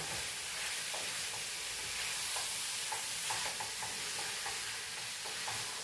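Chicken biryani mixture with curry leaves being stirred in a pot, giving a steady broadband sizzle with light scraping clicks scattered throughout, close and continuous with no talking.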